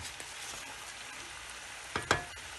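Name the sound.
chicken sauce simmering on low heat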